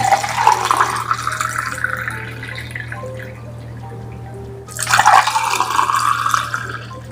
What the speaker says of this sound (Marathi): तर असे सगळे ग्लास मी ओतून घेतो